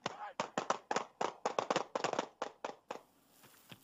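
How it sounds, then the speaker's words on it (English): Police officers firing duty-issued handguns, a rapid volley of about a dozen sharp cracks over roughly three seconds, close and loud, then fading to a quiet background. "The officers all simultaneously disengaged and retrieved their duty-issued firearms, firing as they retreated away from Wesolek"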